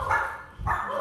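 Dogs barking in a neighborhood in Mexico, two loud bursts of barking close by, separated by a brief lull, with no talk over them.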